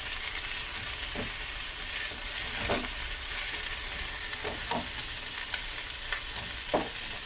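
Hot dogs roasting in an oiled pan give a steady, close sizzle, with a few scraping stirs breaking through at irregular moments.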